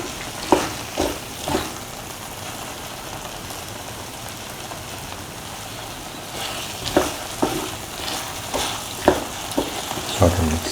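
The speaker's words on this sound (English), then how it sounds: "Saute and mix thoroughly." Plantain and cashew stir fry sautéing in a pan, a continuous rain-like sizzle with irregular scraping strokes of stirring, clustered early and again in the second half, close and moderately loud.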